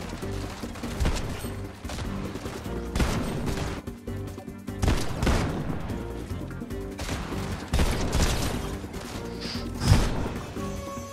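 Dense, continuous gunfire in a shooter video game, overlapping bursts and heavy impacts filling the whole stretch, loud and busy, with a few sharper crashes standing out.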